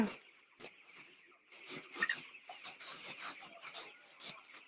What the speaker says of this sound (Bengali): মুরগিগুলো ঘুমাইতেছে, তাই তাদেরকে ঘুম থেকে জাগৃত করে দিতেছি।